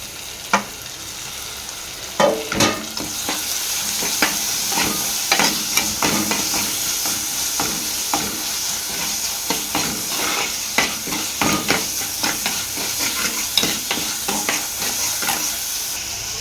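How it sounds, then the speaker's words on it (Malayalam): Chopped tomatoes sautéing in a pan for a sardine dish, a constant hissing sizzle with repeated spatula scrapes and taps against the pan, close and fairly loud with no speech. "ഇനി ചെറുതായി അരിഞ്ഞ് വെച്ച ചെറിയ രണ്ട് തക്കാളി അരിഞ്ഞ് വെച്ചത് അത് ഇട്ട് കൊടുക്കാം."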